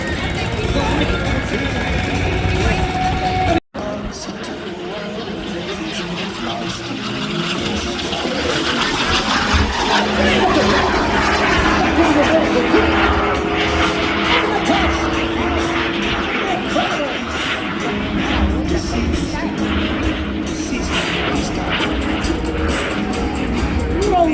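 An aircraft performs at the Wings Over Wayne airshow at Seymour Johnson in 2025, its engine roar steady and loud for most of the stretch after a brief dropout near the start, with broadband noise throughout.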